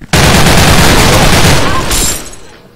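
Close, very loud gunfire in a video game shooter: a dense, continuous roar of rapid shots that runs for about two seconds before trailing away.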